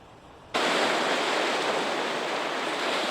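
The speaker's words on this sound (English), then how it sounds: "As welcome as the sound of crashing waves is after a long winter in Wisconsin" Waves crash on a Wisconsin lake shore at Fox Point during high water, a dense steady roar of surf that comes in suddenly and then holds, loud and near, with no voices.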